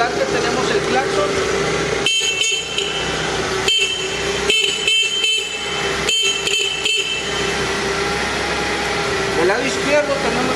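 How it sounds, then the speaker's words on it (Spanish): Horn of an LTMG FG25 dual gasoline/LP sit-down forklift, blown in several short sharp bursts of varying length over a running engine, loud and close. "En el volante tenemos el claxon."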